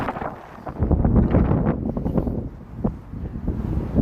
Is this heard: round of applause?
no